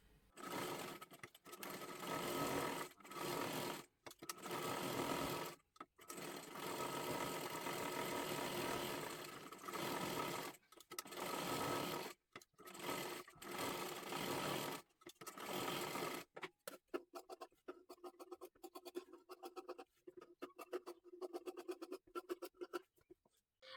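A sewing machine stitching the lining of a girl's one-piece dress, running in long close bursts with brief pauses, then switching to shorter stop-start runs near the end.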